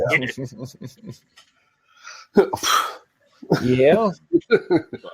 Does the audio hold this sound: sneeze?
yes